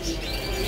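Goldfinches in an aviary give a brief burst of near, high chirps over a steady background hum.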